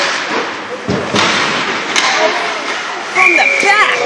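During a bantam ice hockey game, a stick strikes the puck with a sharp crack amid arena noise, shouts and skate scrapes; several thuds follow, with voices nearby.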